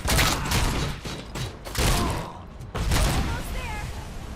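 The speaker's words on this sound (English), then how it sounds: "This pistol, it's really satisfying." Pistol fire in RoboCop: Rogue City, several loud punchy bursts of shots separated by brief lulls, with game effects and a voice mixed underneath.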